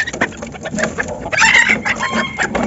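Labuyo crossbreed hens and roosters, a labuyo and bantam cross, cluck steadily at close range on a farm, with a few sharper calls rising over the continuous clucking and no talk.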